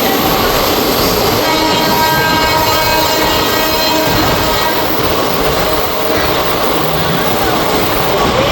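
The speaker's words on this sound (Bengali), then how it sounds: "শহীদ এক্সপ্রেসকে ওভারটেক করছে বন্দে ভারত এক্সপ্রেস।" Vande Bharat Express overtaking the Sahid Express on an Indian Railway line, heard from the moving train as loud, continuous rail roar with rumbling wheels and sustained high whine throughout.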